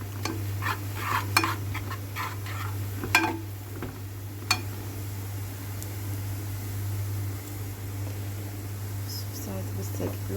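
A spoon stirring taqleya frying in a pan, with scattered scraping clicks over a steady sizzle and a constant hum, heard close and alone.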